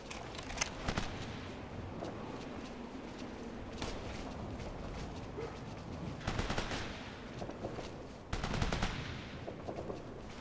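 Gunfire from soldiers in the Operation Flashpoint: Red River video game, with steady combat noise broken by several loud bursts of automatic fire, the sharpest near the start and around the sixth and eighth seconds.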